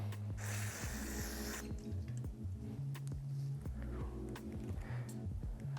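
A can of carb cleaner sprays in a short hissing burst onto the rubber ring of a Keihin FCR carburetor, faint and close, followed by low hum and small taps.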